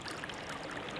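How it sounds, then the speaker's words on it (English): Fast-moving river water rushes near a kayak on a winter paddling trip, a steady, broad hiss of flow that stays even and fairly close for the whole brief moment. "I definitely hear some fast moving water here."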